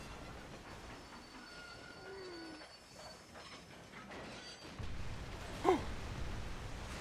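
A train in the Red Dead Redemption game rolls along with rumbling wheels, clattering carriages and a high squeal of wheels on the rails, a sharp screech and heavier rumble coming near the end.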